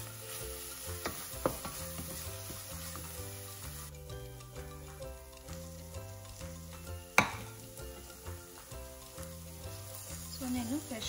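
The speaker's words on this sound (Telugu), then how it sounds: "సో పుదీనా కుక్ అయిపోయింది, ఇప్పుడు ఇందులోకి రైస్ యాడ్ చేసుకుంటాను." Cooked rice tipped into a pan of frying mint and stirred, with steady sizzling and scraping stir strokes over a repeating background tune, one sharper clack midway.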